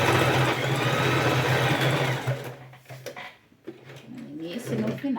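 A sewing machine backstitches on a TNT-based patchwork rug, a loud close motor hum with rapid needle stitching that stops partway, followed by softer handling clatter and brief talk.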